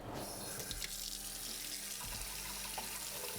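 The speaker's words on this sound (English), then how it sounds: "I'm just gonna give this a rinse" A still-hot pan is rinsed under a kitchen tap, giving a steady, close rush of running water that splashes against the metal without pause.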